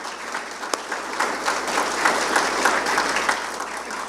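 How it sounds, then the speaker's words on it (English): Audience at a meeting applauds the engineering team, a steady spread of many hands clapping at moderate loudness with a few sharper individual claps standing out. "I just want to ask again for a round of applause"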